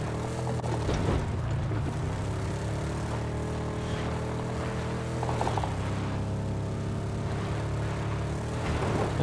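A helicopter flying overhead carrying players in PUBG on the Miramar desert map, a continuous loud droning engine and rotor roar that holds steady throughout with no talk.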